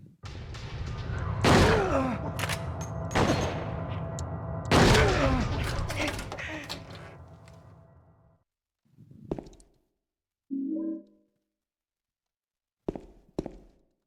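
Shotgun blasts in the survival horror game Silent Hill 2, a few loud booming shots spaced apart with reverberant tails, followed by quieter thuds, footsteps and a groan, then short sharp bursts near the end.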